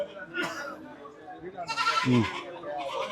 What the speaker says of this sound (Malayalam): കറുത്ത കൊറ്റനല്ലേ